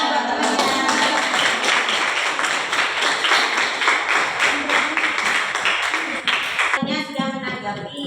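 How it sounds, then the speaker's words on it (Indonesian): A classroom of students applauds a group of classmates after their presentation, steady clapping filling most of the clip before fading into a teacher's voice at the end. "Ya, tepuk tangan buat temannya."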